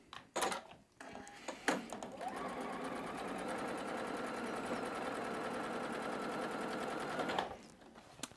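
A sewing machine stitches quilt patch pieces together along a quarter-inch seam, running steadily and close for about five seconds after a few brief handling clicks, then stopping.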